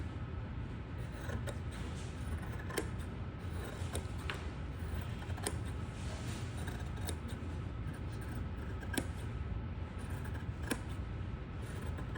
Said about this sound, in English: we're gonna trim all the excess fabric out, okay?